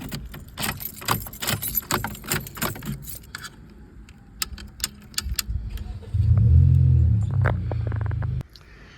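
Keys jingle and rattle in the ignition of a Pontiac Firebird, then the engine cranks and catches into a steady, loud idle rumble that runs for a couple of seconds before cutting off.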